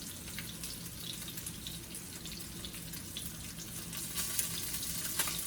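A tilapia fillet fries in a pan with a soft, steady sizzle and scattered small crackles that grow a little busier near the end, with no voices.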